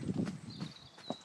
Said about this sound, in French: On a un cheval qui a reculé